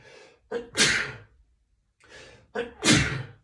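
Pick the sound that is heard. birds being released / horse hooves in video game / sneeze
sneeze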